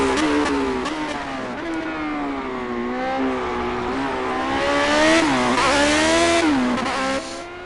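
A loud race car engine screams and revs, its pitch climbing and dipping through gear changes, close and sustained with no voices.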